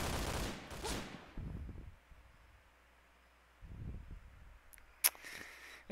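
Gunfire in the Point Blank shooter game: a few quiet bursts of shots early on, then a lull and a single sharp, loud crack near the end.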